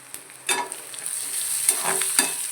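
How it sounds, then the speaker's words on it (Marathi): Raw masala of green chillies, garlic and cumin is stirred into poha frying in a pan, with a steady sizzle and a few scraping strokes of the spoon close by. "कच्चा मसाला टाकून आपण त्याला चांगलं हलवून घेणार आहोत"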